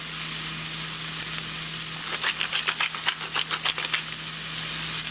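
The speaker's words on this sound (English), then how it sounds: "Then I'm gonna get in the onions and the serranos." Onions and serrano peppers hit a hot pan and sizzle, a steady close frying hiss with a burst of sharper crackles and pops in the middle as they are stirred.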